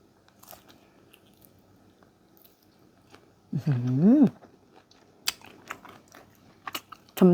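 Close crunchy chewing of fried fermented pork belly eaten with sticky rice, one loud burst of biting and munching midway, with small clicks and mouth sounds around it in an otherwise quiet room.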